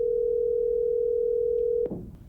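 A steady single-pitch calling tone sounds from a HomePod Mini smart speaker as Siri places a phone call, holding for nearly two seconds before cutting off abruptly into a brief softer rustle.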